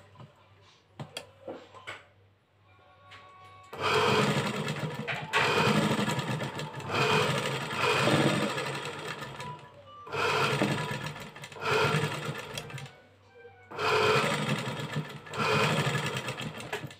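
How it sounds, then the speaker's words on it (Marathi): A sewing machine stitches darts on a designer blouse in several runs of rapid, rattling stitching, each a few seconds long, separated by short pauses, with faint handling noise at the start. "आत्ता आपण डात टिचिंग करून घेऊयात"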